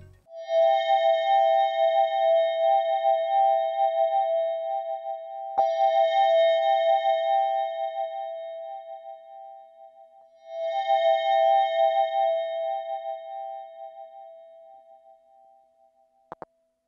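KORG Volca FM synthesizer playing three sustained bell-like tones separated by short gaps, each swelling then decaying, with a brief click partway through and a sharp blip at the end.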